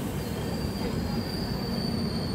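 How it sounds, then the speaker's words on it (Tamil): A superfast express train rolls slowly into a station at dusk, wheels squealing with a thin, steady high whine over the low rumble of rolling carriages, close and continuous with no talking. "இந்த சூப்பர் ஃபாஸ்ட் எக்ஸ்பிரஸ் ட்ரெயின் அப்படியே ஸ்லோவாக நிற்க ஆரம்பிச்சிருச்சு"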